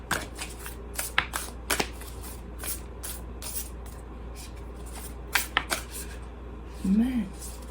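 A deck of Black Moon astrology cards being shuffled close up, with scattered crisp flicks and riffles in short bursts between quieter pauses.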